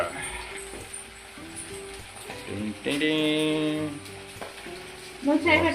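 Chicken pakoda pieces coated in cornflour and gram flour sizzle and bubble steadily in hot oil, with occasional stirring clinks and a voice talking over the frying.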